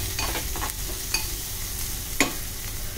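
Moringa flower bhaji with turmeric and green chilies being stir-fried in a pan, a soft steady sizzle with a few sharp scrapes and clinks of the spoon against the pan.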